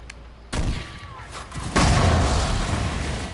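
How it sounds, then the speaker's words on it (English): A wall of flame spell in Dragon Age: Inquisition erupts with a sudden loud whoosh and roaring rumble, swelling again into a sustained crackling blaze that stays loud to the end. "Again, that wall of flame is loud."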